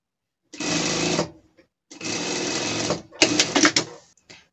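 A sewing machine stitches a French seam on a gaucho costume garment in three close, loud bursts of steady whirring, the last run choppier with sharp stops and starts.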